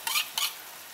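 Fried cauliflower dropped into a pan of sizzling spice masala for a Bengali malai curry, two quick bursts of hiss and clatter followed by a quieter, steady low sizzle.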